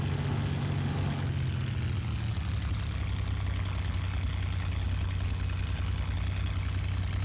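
A Spitfire's piston engine in the IL-2 Cliffs of Dover flight simulator drones steadily and loudly throughout, a continuous low roar with a slight change in tone early on and no speech.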